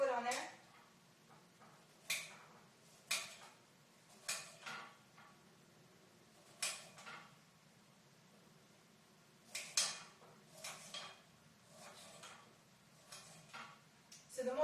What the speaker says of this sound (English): Just chop it up into little squares and sprinkle it on there.